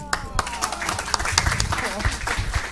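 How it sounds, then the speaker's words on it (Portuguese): Applause from an academic audience after a talk on postcolonial thought and cultural studies, a moderate burst of distinct, irregular hand claps close by, with voices murmuring among them. "vocês merecem muitíssimos mais aplausos"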